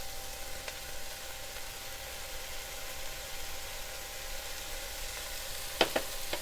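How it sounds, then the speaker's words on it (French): Chopped onions sweat in a pan for boeuf bourguignon, giving a soft, steady sizzle throughout with a couple of faint clinks near the end. "On va les faire suer 1 minute avant d'ajouter l'ail."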